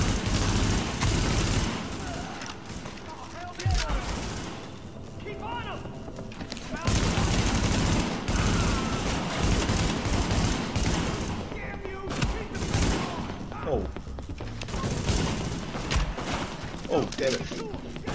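Weapons fire in the video game Tom Clancy's The Division: repeated bursts of gunshots and rapid automatic fire with brief lulls, while players talk over the shooting.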